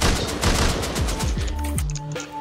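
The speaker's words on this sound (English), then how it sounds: "I'm getting shot by AK, I'm dead." Rapid bursts of AK assault rifle fire in the survival game Rust, a dense volley of loud close shots clattering over roughly two seconds before tailing off, with overlapping game effects and no talk.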